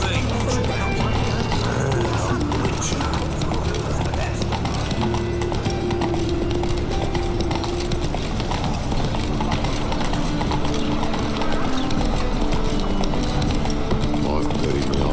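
Roach, a horse in the video game The Witcher 3, gallops with steady rapid clip-clop hoofbeats under a continuous ambient game soundscape, with a brief whinny and some voice underneath.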